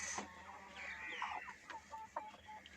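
Hens on a small home farm raising assil chickens, giving short clucks and calls, some repeated in a quick series, fairly close against steady background noise.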